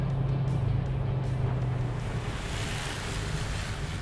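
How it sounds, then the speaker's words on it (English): A car accelerates with overdrive switched off, its engine holding a steady, loud drone that pulls hard through the gear, with road and wind rush close by and no voices. "switch the overdrive off and then it pulls much more stronger in each gear"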